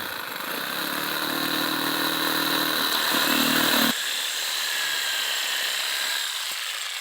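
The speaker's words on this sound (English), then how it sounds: "I'm going to use a sawzall." A sawzall reciprocating saw cutting through a crushed downspout drain pipe, a loud buzzing rasp that runs for about four seconds and then drops to a lighter, hissing whine near the end, close up.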